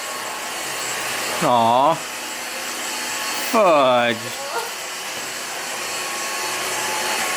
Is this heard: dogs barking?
no